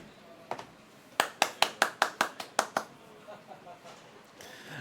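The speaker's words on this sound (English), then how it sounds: "I just applauded my friend there" One person claps hands about nine times in a quick, even burst, close and sharp, with faint talk and a few light taps before and after, at a tabletop Warhammer game session.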